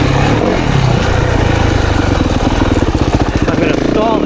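A 2024 Yamaha YZ 450FX dirt bike lugs at low RPM on a woods trail, its engine thumping in slow, heavy pulses that grow more distinct. It runs loud and close, with the rider talking over it.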